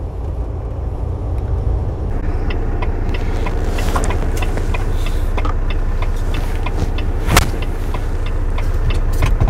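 A truck driving on the road between British Columbia and Manitoba, a loud continuous engine and road drone heard from inside the cab, with small rattles and no speech.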